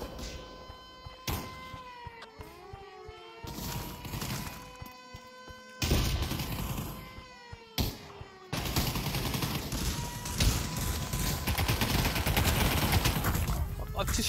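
Gunfire in Pavlov VR during a WW2 Tunisia push match: a few sharp, isolated shots early on, then a dense, continuous barrage of rapid fire, mixed with ringing electronic tones from the game.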